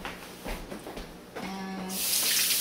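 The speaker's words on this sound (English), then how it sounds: "Let me wash my hands." Running tap water splashes over hands at a kitchen sink while apple strudel is being made, a steady hiss that builds and grows louder toward the end, with faint clinks and movement beforehand.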